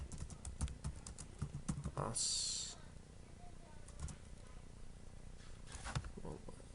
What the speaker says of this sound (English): we'll type in one last one